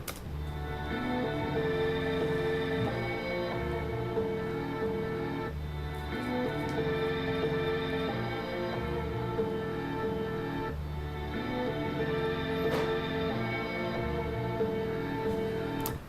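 A looping sampled string melody, cut into segments and rearranged, repeats with noticeable edits and shifts every few seconds, steady and full.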